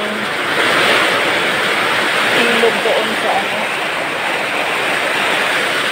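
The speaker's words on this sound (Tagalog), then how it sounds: "Pagka ganito, ganito kalakas ang ulan" Heavy typhoon rain and wind roar as a steady, loud wash of noise throughout, while a person speaks over it.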